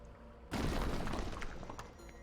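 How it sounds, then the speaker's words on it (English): A sudden loud explosion bursts from the video game Doki Doki Anomaly, a booming, crackling blast that decays over about a second and a half. "I'm lifted off my feet by a sudden explosion of light."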